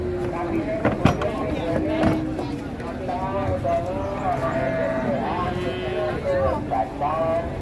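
Livestock at a crowded cattle market in Ngawi, with animal calls and bleats rising over a dense hubbub of people talking and milling about nearby.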